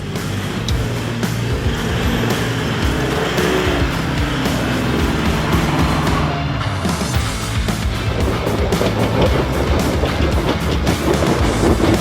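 A 4WD vehicle in a convoy in the Victorian High Country is snatch-recovered by another, engines roaring loud and steady with gritty tyre and mechanical noise throughout.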